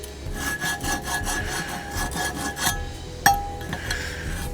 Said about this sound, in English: we're going to grab a file and we're going to clean these up